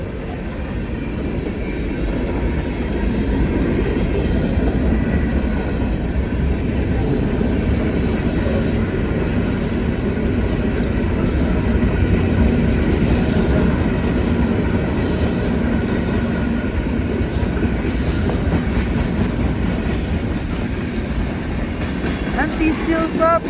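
CSX freight train M326, a string of empty steel slab cars, rolls past steadily in a blizzard, with continuous loud rumble and wheel clatter throughout and no letup.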